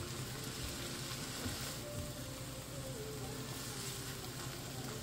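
Garlic and onion frying in a pan give off a steady, even sizzle at low level, a constant hiss with no breaks that holds from start to finish.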